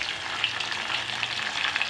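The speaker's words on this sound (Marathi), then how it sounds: "त्याच्यामध्ये आता मी कढीपत्ता टाकते, जिरं, मगाशी चिरलेला टोमॅटो" Curry leaves, cumin seeds and chopped tomato crackle and sizzle in hot oil for a Marathi green bean amti, a steady dense frying hiss with small pops, close and continuous, no voices.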